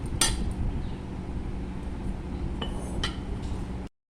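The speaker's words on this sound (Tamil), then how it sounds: "இன்றைக்கி வந்து நம்ம ஜாடியில் போட்டு மூடி வச்சிடலாம்" Mango pickle being spooned into a jar, with several sharp clinks of a utensil against glass over a steady background hiss, nearby and moderately loud.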